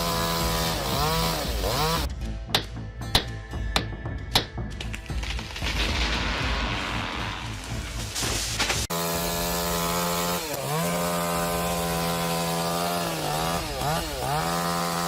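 A chainsaw cuts into a large tree, its engine revving and bogging, with several sharp cracks and thuds as the trunk gives way, then the saw idles and revs steadily after the fall.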